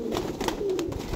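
Pigeons kept in a bird house giving soft cooing calls, a couple of low warbling coos close by against faint background noise.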